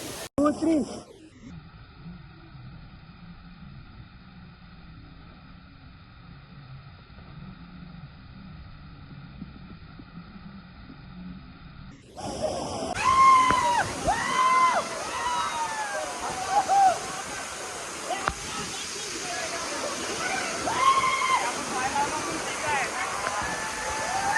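Nhavakond waterfall near Devgad in Konkan, a steady rushing roar of falling water that swells midway, with voices talking and shouting over it.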